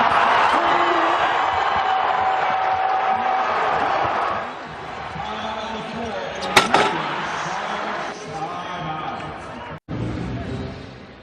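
A basketball arena crowd at the Save Mart Center during a Boise State vs Fresno State men's college game roars and cheers loudly and steadily, rising and falling with whoops, a sharp bang near the middle and a brief dip late on.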